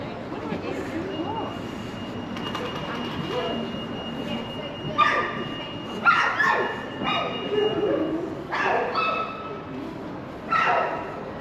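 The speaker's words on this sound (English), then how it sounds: "A lot of dogs." Many dogs bark outdoors in irregular bursts of loud yaps and woofs, some overlapping, against a steady background murmur.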